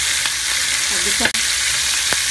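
Pork for humba fries in hot oil, crackling loudly and continuously, with a few clinks and a short utensil clatter partway through.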